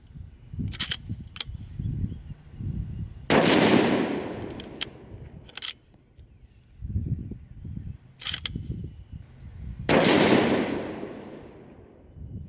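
A Ruger M77 Mark II rifle in .22-250 fires Hornady 50 grain VMAX factory rounds, two sharp loud shots several seconds apart, each trailing off in a long echo, with clicks and handling noise around them.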